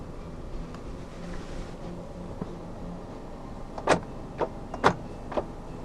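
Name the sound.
Mercedes-Benz SLK 200 power folding mirrors motor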